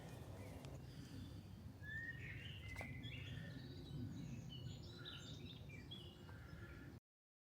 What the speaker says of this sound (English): I'll leave you with the bird song